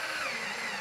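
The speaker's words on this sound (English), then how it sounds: "Now we're just going to drill out the holes for the bolts." A power drill boring bolt holes in round pipe for a vertical hydroponic system, a short steady whirring drone at even pitch, close and alone.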